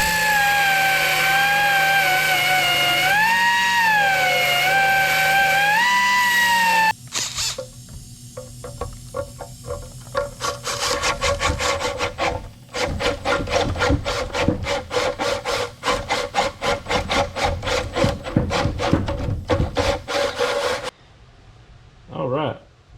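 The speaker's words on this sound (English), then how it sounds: "So we're just gonna grind that down a little bit. And we'll see if we can find a bit big enough to drill that hole out" Grinding down and drilling out a metal engine bracket for a catch can and PCV setup on a K20 turbo EG hatch: a sustained harsh rasping grind, then a stretch of rapid gritty tool strokes, loud and close, with talk at times.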